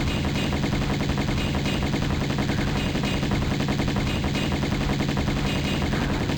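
Dense, continuous game gunfire from Tomb Raider Remastered, with rapid automatic bursts layered into a steady loud roar that runs unbroken for the whole stretch, with no voices.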